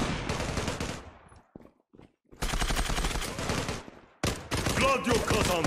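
M4A1 assault rifle fire in the online shooter Zula: loud sustained automatic bursts, broken by a brief near-silent pause with a couple of faint clicks, then more rapid firing; the bursts fill most of the clip with no clear talking.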